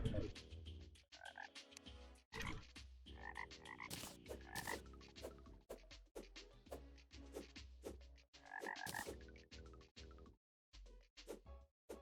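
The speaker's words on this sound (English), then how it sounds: "I can hear the frogs." Frogs croak in Terraria, loud, close, repeated calls in uneven bursts, interrupted by short gaps of silence.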